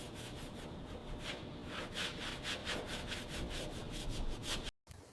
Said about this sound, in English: Gentle brushing now, just to loosen all that surface grime.